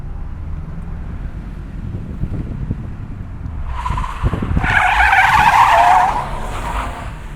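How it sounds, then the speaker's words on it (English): A car drifts through a corner with spinning rear wheels after the clutch is dumped, engine rumbling under wind noise before a loud tyre screech rises midway and holds for a couple of seconds. "dump the clutch, and get some decent wheel spin on the way out"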